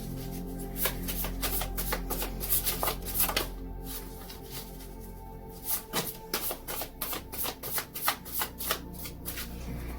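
Tarot message cards are shuffled by hand in a steady run of crisp, close riffling flicks, louder and more rapid in the second half, with no talking.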